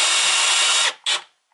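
A Milwaukee power drill whirs steadily at close range for almost a second, stops, then spins again in a short burst before falling silent.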